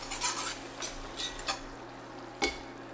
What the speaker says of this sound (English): go ahead and keep stirring